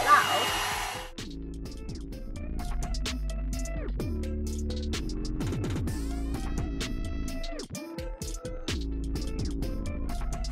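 An Amika blow dryer brush runs on its hottest setting, a steady close whir lasting the whole stretch, while someone talks over it.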